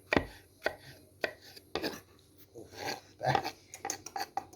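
A knife chops tomatoes repeatedly against a cutting board, sharp irregular knocks close by, with faint rustling and clinks of kitchenware between strokes.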